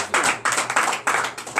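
A congregation at a morning prayer service claps in short rhythmic bursts, sharp, fairly close hand claps repeating in quick groups.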